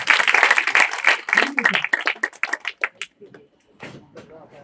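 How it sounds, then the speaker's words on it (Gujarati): Audience applause at a healthy heart and women's wellness awareness session, a dense burst of clapping that thins into scattered claps and fades after about three seconds. "આ બંને માટે તાળી પાડજો એકવાર"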